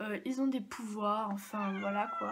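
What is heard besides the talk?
cat meowing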